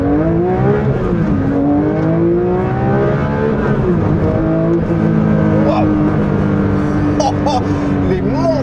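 A Porsche 911 S/T engine revs hard and continuously, its pitch climbing and dropping through repeated surges, loud and close throughout.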